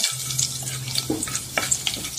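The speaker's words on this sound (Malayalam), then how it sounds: "എണ്ണ ചൂടായി വരുന്നുണ്ട്, നമുക്ക് അതിലേക്ക് ജീരകം ഇടാം. നല്ലായിട്ട് ഇളക്കി കൊടുക്കാം." Cumin seeds sizzle in hot oil in a pan while being stirred, making a steady close crackling hiss with scattered scraping and clicking stir sounds through the short stretch.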